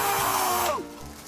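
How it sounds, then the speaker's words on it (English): A handheld power drill fitted with a roughly one-inch hole saw bit whirs loudly into CD discs, a high grinding whine that suddenly winds down and cuts out partway through. "Put it into my drill, and I can drill into the hole."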